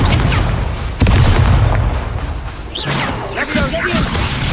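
In Hogwarts Legacy, a Confringo fire spell goes off as a loud booming blast with a whooshing rush, set in dense, continuous game combat noise with voices calling out.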